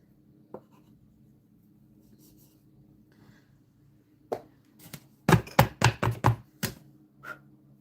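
New pastels scraped across paper while drawing, faint strokes at first, then a run of louder, rhythmic rasping scrapes close by, each a short burst with brief pauses between.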